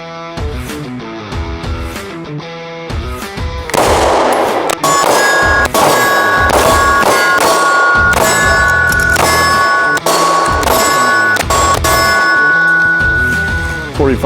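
Bullets striking steel shooting targets on a stand, a rapid series of loud ringing clangs and dings, near, with the pace quickening after a sparser start.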